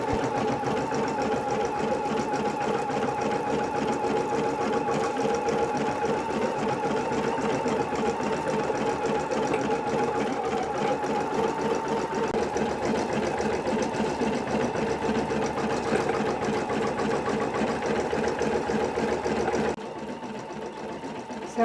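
An embroidery machine stitches the first colour of a design with a fast, steady mechanical whir and rapid needle chatter that runs evenly, close up, before cutting off near the end.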